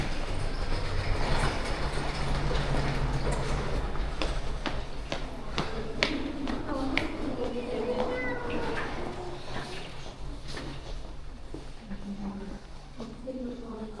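A train passes through a Slovak railway station on the line to Poprad, its steady broadband rumble and occasional metallic squeals filling the platform, with voices murmuring in the background throughout.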